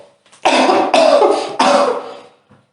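Three loud, harsh coughs in quick succession from a single person, close and alone, followed by a faint trailing breath.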